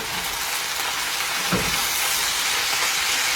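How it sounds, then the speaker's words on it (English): Food frying in a hot cast iron skillet, a loud continuous sizzle and hiss, with a brief scraping stir partway through, close and steady with no talk. "we're going to give everything a big stir"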